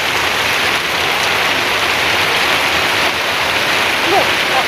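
Heavy overnight rain falls on a garden in a dense, steady, loud hiss of drops that continues unbroken from start to finish.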